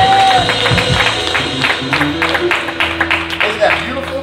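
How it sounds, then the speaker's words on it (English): A church congregation at a Sunday service applauds, rapid dense clapping with scattered cheers and whoops spreading through the room while voices call out over it. "Come on, clap your hands."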